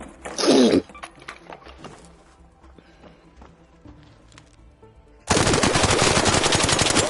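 Automatic weapon fire in the video game Arc Raiders: a short loud burst at the start, a stretch of quieter game sounds, then a sustained rapid stream of shots that runs on to the end.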